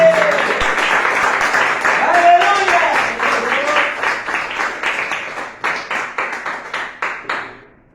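Church congregation applauding after a Spanish-language sermon, dense clapping mixed with voices and a few shouts, thinning into separate rhythmic claps before fading out.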